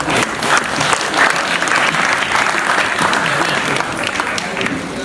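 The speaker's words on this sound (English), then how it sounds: "Let's give yourself a big round of applause." Loud, sustained applause from a book launch audience, steady clapping filling the whole stretch without pause.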